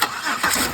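Car engine cranking and catching during a fuel-system lab check, a brief close start that settles toward idle.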